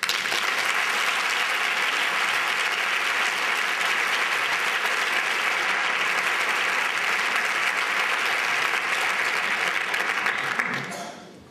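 Sustained, dense audience applause at the proclamation ceremony of the Isla Cristina carnival, loud and steady for about ten seconds before tapering off at the end.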